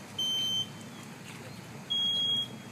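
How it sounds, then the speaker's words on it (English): Two smoke alarms sound at a home fire sprinkler demonstration, emitting two loud, piercing electronic beeps about a second and a half apart over a steady low background rumble. "both alarms are off at 10 seconds"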